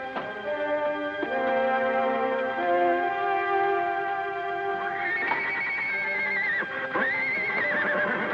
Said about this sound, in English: Look, Tag, I want you to ride out to Sidewinder Pass as fast as you can and get hold of Lofty.